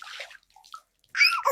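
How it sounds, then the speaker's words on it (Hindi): Water is splashed and poured over a man sleeping in the cold, a short splash first, then a quiet gap, then a louder sloshing pour. "इतनी ठंड में कोई पानी डाल के जगाता है"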